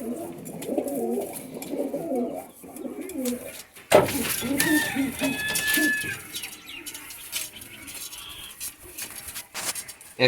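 Punjabi pigeons in a loft give low, soft cooing phrases close by, followed by a sudden flutter and brief scraping movement, then scattered chirps and faint background noise.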